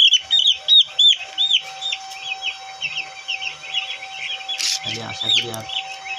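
A crowd of chicks cheeps nonstop in high, rapid peeps, with a short rustling burst near the end and a faint steady hum behind.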